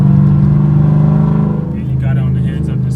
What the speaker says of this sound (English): my main thing is these pedal shifters. Like boom, 3rd gear.